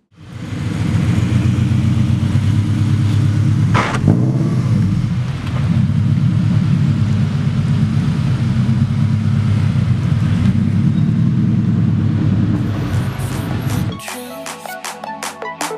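A Subaru BRZ fitted with a Greddy cold air intake and a tune runs loud and close, a steady heavy engine drone for about fourteen seconds that then drops away abruptly.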